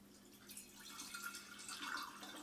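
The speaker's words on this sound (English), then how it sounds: "I hope this don't spill everywhere with me pouring from this bowl" Fire cider liquid poured from a bowl into a glass jar, a steady, soft trickling splash that runs on quietly for a couple of seconds with no talking.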